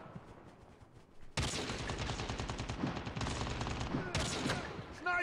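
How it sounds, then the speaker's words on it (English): Rapid bursts of gunfire from the Call of Duty Mobile video game, played with keyboard and mouse on PC, start abruptly after a quiet opening and sound loud and dense, with overlapping shots and brief pauses. "I shot you through the window"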